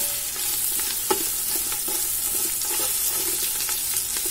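Ginger garlic paste with onions frying in a pan for chicken pulao, a steady close sizzle broken by scraping stirs and clinks of a spoon against the pan, with no talking.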